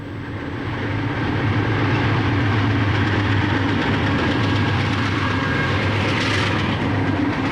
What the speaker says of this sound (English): You'll see U-28Bs pulling heavy coal trains across the Kentucky hills.